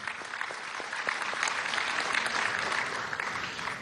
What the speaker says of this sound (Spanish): Vamos otro aplauso a Ainhoa Aragor, la osa del folclor.